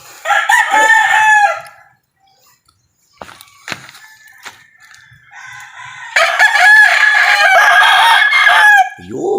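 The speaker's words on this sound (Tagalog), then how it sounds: "Isang tilaok nga, baby." Two loud, close crows from a rooster frame a quieter middle of faint clucking and scattered noises, and the second call is long and sustained.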